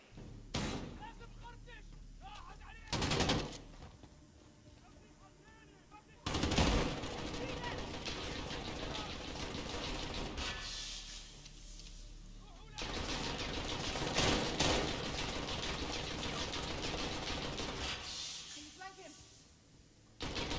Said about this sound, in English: It did not stop shooting.